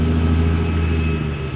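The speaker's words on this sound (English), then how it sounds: "CH-47 Chinook heavy-lift transport helicopter." A U.S. Army CH-47 Chinook heavy-lift transport helicopter gives a loud, steady drone with a deep rotor hum and engine whine. It stays constant and close throughout, with no voices.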